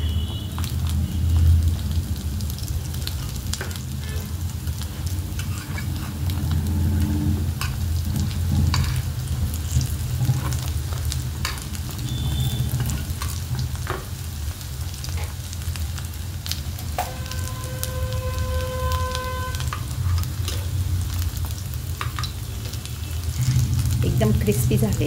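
Green chickpea hara bhara cutlets sizzle steadily in a pan, a continuous low frying crackle with occasional stirring sounds, fairly close and alone without speech.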